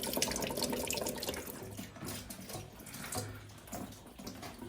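Water running and splashing steadily from the expansion vessel of a leaking Worcester Bosch boiler, a continuous close gush with no talk.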